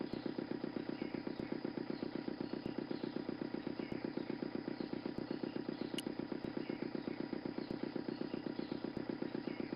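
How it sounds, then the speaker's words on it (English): A motor runs steadily in the game Broken Sword 2, a fast even chugging pulse like a small idling engine, loud and continuous throughout with no talk. "The engine stopped dead."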